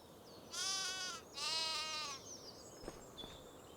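A sheep in Farming Simulator 25, on the Highlands Fishing map near a sheep barn, gives two drawn-out wavering bleats in quick succession, fairly faint, followed by a few soft clicks.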